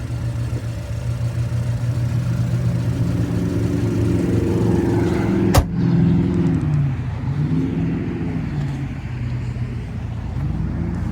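A 2021 Toyota Supra GR 2.0 with its twin-scroll turbo four-cylinder runs at a steady low idle, a continuous rumbling drone with one sharp click midway.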